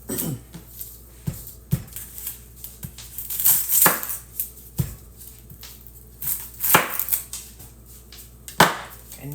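An onion is chopped with a knife on a board, giving irregular sharp taps and thuds close by, some in quick clusters with short pauses between.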